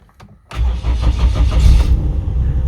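A Citroën 2CV engine is cranked and starts, faint clicks giving way to a loud close burst of churning starter and engine noise that settles into a rough idle.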